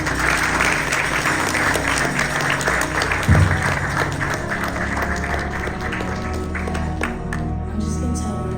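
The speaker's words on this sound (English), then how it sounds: "Clap for Jesus." A live audience applauding, a sustained wash of many hands clapping at steady volume, with a brief louder burst partway through and faint crowd murmur underneath.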